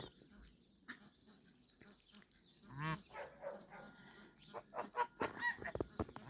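Muscovy ducks and duck-geese honk and call outdoors in the snow, a few scattered honks early, then a louder cluster of repeated calls near the end, close by.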